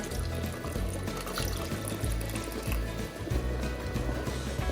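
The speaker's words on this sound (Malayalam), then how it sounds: "അതിനുശേഷം ഒന്നാം പാല് ഒഴിച്ചു കൊടുക്കാം." First-extract coconut milk is poured into a pan of cherupayar parippu pradhaman, a lentil payasam, with the flame off. It makes a steady, close liquid pour with a soft, continuous gurgle.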